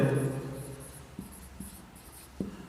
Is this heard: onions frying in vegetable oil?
no